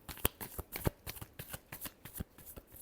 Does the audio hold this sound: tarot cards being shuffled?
yes